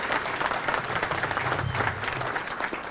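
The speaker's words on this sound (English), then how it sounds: "give yourself a round of applause" A round of applause fills a fundraiser luncheon hall, steady and fairly close, with the crowd clapping continuously for the whole stretch.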